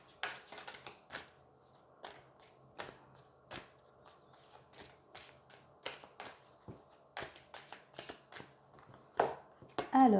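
Oracle cards are shuffled for a reading in repeated crisp riffling bursts, close and fairly quiet, spread across the stretch with short pauses between them.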